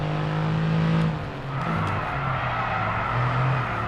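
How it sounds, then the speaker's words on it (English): Car tyres skidding in the F1 22 racing game, a high engine whine shifting pitch over a gritty tyre scrub, loud and close throughout. "Oh, I'm skidding."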